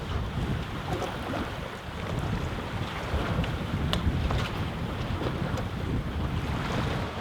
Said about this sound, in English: the wind picked up to the blazing speed of about 8 knots